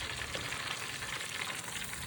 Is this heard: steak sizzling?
yes